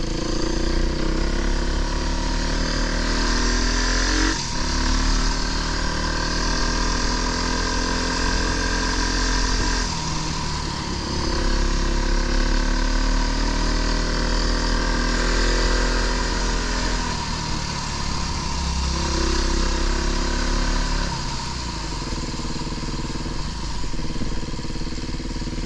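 A Fantic 310 enduro motorcycle engine revs hard and continuously, loud and close, with repeated rising and falling pitch sweeps as the throttle is worked, no talk.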